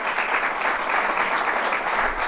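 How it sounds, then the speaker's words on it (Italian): An audience at a talk applauds to welcome the scientist Antonella Viola, a steady, dense wash of many hands clapping throughout, moderately loud and without pauses. "Abbiamo con noi Antonella Viola, che vi invito ad accogliere con un applauso."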